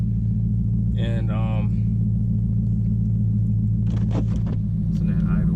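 A car engine idles with a deep, steady rumble throughout, close and loud, while someone talks briefly over it and a few clicks sound.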